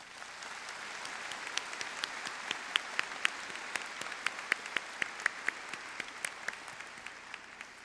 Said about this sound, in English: Please join me in recognizing our esteemed guests and university officials with a round of applause.